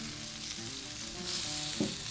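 Sausage and peppers sizzle on a grill with a steady, close frying hiss that grows a bit brighter partway through, alone without talk.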